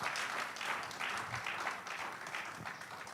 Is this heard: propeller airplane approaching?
no